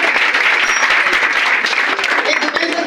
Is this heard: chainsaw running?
no